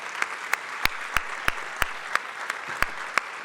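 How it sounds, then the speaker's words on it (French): An audience at a regional territory project presentation claps in a slow, sparse, rhythmic way, with about a dozen distinct sharp claps set over a soft bed of scattered clapping. "Applaudissements."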